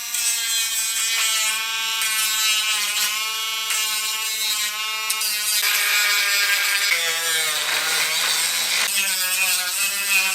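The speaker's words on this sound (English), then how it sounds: "I'm just going to grind these down a little so that it's easier to get the new grip on" A power tool grinds down the raised bumps on a Honda Grom motorcycle's throttle tube ahead of fitting new grips, a steady close high-pitched whine whose pitch dips and shifts partway through.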